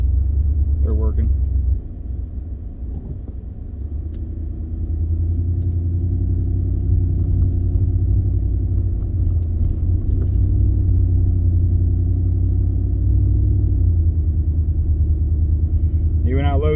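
A 2015 Ford F-150 with a 5.0 V8, fitted with a new throttle body, rolls along at around 30 mph, its engine a steady low rumble with road noise throughout, and a brief voice near the start and end.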